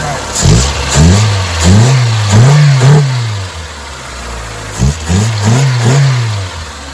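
A Saturn car engine, recently fixed of a misfire and running on a temporary fuel pump wire, idles and revs repeatedly in close, loud bursts, rising and falling in pitch in two clusters.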